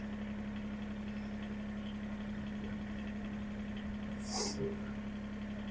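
A John Deere 1023E compact tractor idles in four-wheel drive low range. Its engine gives a steady, even hum at moderate volume, and there is a brief higher rattle near the end.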